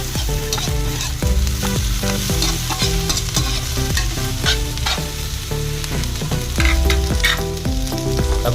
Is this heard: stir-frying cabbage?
yes